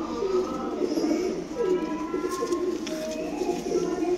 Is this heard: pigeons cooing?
yes